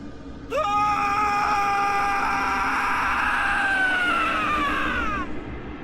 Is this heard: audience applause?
no